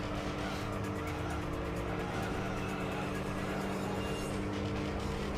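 A race car engine in Gran Turismo 3 roars steadily at high revs, loud and close, with tires squealing now and then and no voices.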